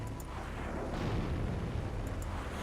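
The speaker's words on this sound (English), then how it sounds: "obviously I'm shooting all over the place here" Rapid gunfire and rocket launches from an attack helicopter in the Heliborne combat video game, a dense continuous roar of booms and explosions with no pauses, loud and close throughout.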